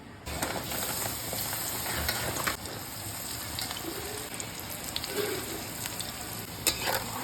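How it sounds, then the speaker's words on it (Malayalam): Oil crackles and sizzles steadily as okra fries in a pan, with occasional light stirring clicks and no talking. "ഇനി വെണ്ടയ്ക്ക വറുത്ത് നമുക്ക് തെളിക്കണം"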